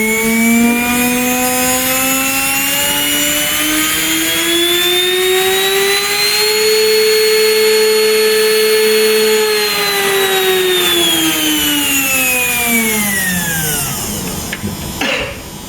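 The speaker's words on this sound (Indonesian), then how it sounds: "maka putaran motor juga semakin cepat" A small DC motor under PWM speed control whines steadily for about fifteen seconds, its pitch climbing as it speeds up, holding high, then falling off near the end, loud and close with no talk.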